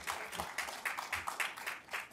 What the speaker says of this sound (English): That's a good clap right there